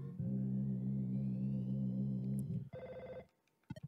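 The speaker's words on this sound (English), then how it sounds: "Oh, phone call." A telephone rings in the Mother 2 video game, one long sustained electronic ring followed by a shorter higher chime and a few quick blips, clear and alone.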